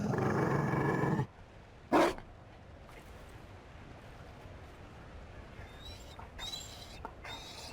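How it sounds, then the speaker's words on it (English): A Mabari war dog in the video game Dragon Age Inquisition gives a loud, rough growl, then a brief snarling burst, before fading into quiet game ambience with faint chimes. "You found a dog? They don't breed Mabari in Olay."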